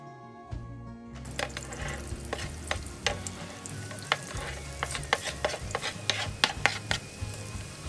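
Hot dogs fry in a pan with a steady crackling sizzle, broken by repeated sharp clinks and scrapes of a utensil stirring and turning them, close up and without talk.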